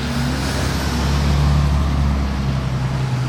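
A grey Ferrari F12 TDF drives by on a Monaco street, its engine a close, steady deep rumble that swells slightly midway and then holds.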